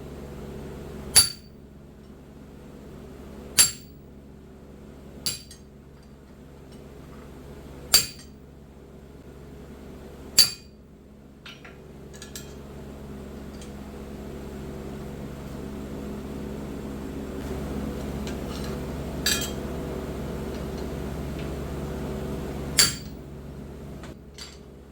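A hammer drives an H13 hot chisel into hot steel, giving sharp isolated metallic strikes at roughly two-second intervals over a low steady hum, with a few fainter clinks later on.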